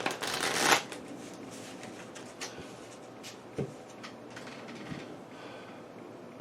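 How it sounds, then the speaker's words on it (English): Playing cards for the Onirim card game are shuffled up close: one loud riffle burst at the start, followed by quieter scattered taps and card slides. "Some craptacular shuffles here."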